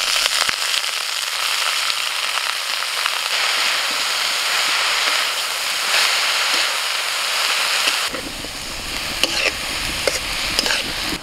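Matar shaak greens with green chilli and ginger paste sizzle steadily in a hot pan, a dense continuous frying crackle that shifts slightly in tone partway through as the greens settle in; no voices.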